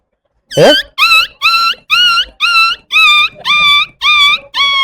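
A voice imitates a dog, letting out a run of about eight high, whiny yelps in a steady rhythm, loud and close.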